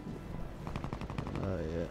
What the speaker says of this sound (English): there's gunshots over here somewhere